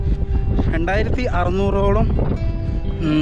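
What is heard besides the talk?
wind blowing on a mountain trail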